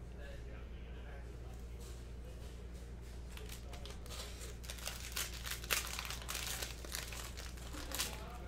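A cello-wrapped 2019-20 Panini Mosaic Basketball trading card pack is torn open, its plastic wrapper crinkling and crackling close by in irregular bursts that build toward the end, while a person talks quietly.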